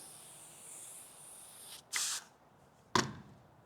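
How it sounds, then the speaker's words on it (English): Short hissing bursts from a spray bottle misting water onto a car guard during wet sanding with 2000-grade sandpaper, two quick sprays after a soft steady hiss, in a quiet room. "spray the water"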